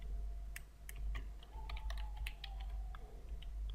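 Computer keyboard typing, a quick irregular run of crisp close key clicks over a low steady hum, no talking.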